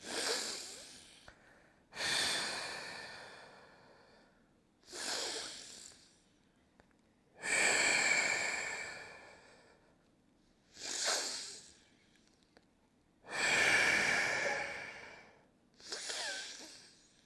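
About seven forceful nasal breaths come in a slow, even rhythm during a decongestion exercise for a cold, alternating nostrils with the fingers. They are close and clear, with quiet pauses between them and no talking.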